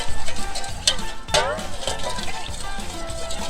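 Spanish paprika and other marinade ingredients being stirred together in a bowl for backyard orange chicken, a close, steady scraping swirl with a few sharper knocks, under a person talking.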